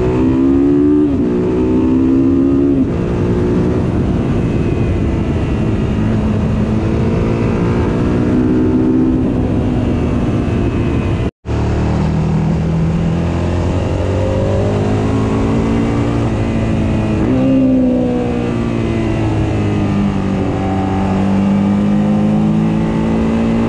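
Motorbike ridden around the Peak District, its engine droning steadily close by with rising and falling revs and gear changes, loud and continuous with no talk.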